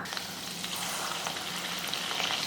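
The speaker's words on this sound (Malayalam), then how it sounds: "ഇതൊന്ന് ബ്രൗൺ കളറായി വരുന്നവരെ നമുക്ക് ഫ്രൈ ചെയ്തെടുക്കാം" Biriyani samosas deep fry in hot oil with a steady, dense crackling sizzle, close and fairly loud, with faint bubbling and no voices.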